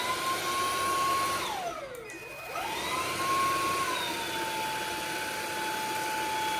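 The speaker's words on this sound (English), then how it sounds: "let's put this vacuum to test" A cordless vacuum cleaner runs on a floor with a steady whirring whine, and its motor pitch dips and sweeps back up partway through. Nobody talks over it.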